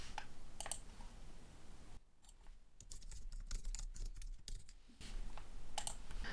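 Soft computer keyboard typing and mouse clicks while a Microsoft Forms form is filled in: quiet, irregular clicks that cluster into a busy burst of keystrokes in the middle, with no speech.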